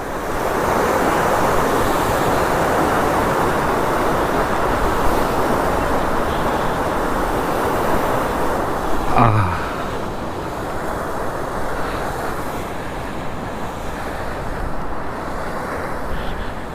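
Water rushes steadily beneath a bridge on the Damodar river, a loud broadband roar that fills the whole stretch with no pauses and one brief knock partway through.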